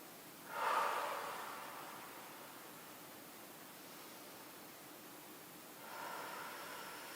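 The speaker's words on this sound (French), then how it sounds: "Inspirez profondément avec le nez et expirez longuement avec la bouche." Two deep breaths of a yoga session: a loud nasal inhale that swells and slowly fades into a long, airy exhale through the mouth, then a second breath beginning near the end, close and alone.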